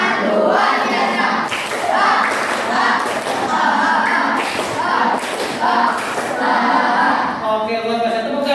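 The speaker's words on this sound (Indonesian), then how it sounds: "Tepuk tangan untuk kita semua." Students in a classroom clap together, a dense patter of hands lasting several seconds at steady loudness with scattered thumps and a few voices mixed in.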